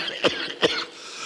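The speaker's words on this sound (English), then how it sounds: "How long have you had that cough?" A man coughs twice in quick succession, harsh and close, in a dramatized reading of an Edgar Allan Poe tale, the second cough following about half a second after the first.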